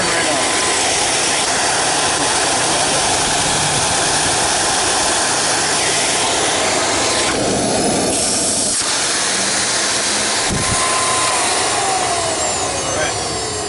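A Miele S558 canister vacuum cleaner runs with its hose disconnected, a loud continuous airy whine and hiss close by, steady throughout.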